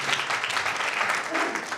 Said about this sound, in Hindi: आइए जोरदार तालियां बजाएं